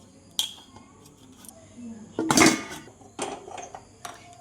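A metal kadai set down on a home kitchen stove while making a sweet palm fruit dish, one loud clattering knock in the middle amid small scattered utensil clinks.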